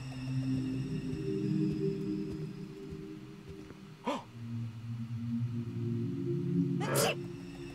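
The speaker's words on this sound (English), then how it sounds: "Now you had to sneeze." A woman character sneezes twice in the Arctic Alive video game, short bursts at about four and seven seconds over a steady low droning game soundtrack.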